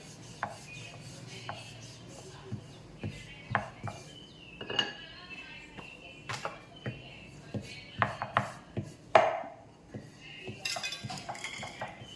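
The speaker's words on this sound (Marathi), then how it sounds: "इथं आता मी लाटून घेतली आपल्या चपातीला" Spinach puri dough being rolled out with a rolling pin on a board, a run of knocks, clinks and rubbing scrapes in an uneven rhythm, close up and moderately loud, with no talking.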